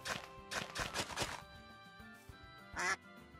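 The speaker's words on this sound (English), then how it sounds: "And the duck says quack." A duck quacking in a Minecraft-style video game on the SDMP server, several quick nasal quacks in a cluster, then a pause and one louder quack near the end, faint overall with game tones beneath.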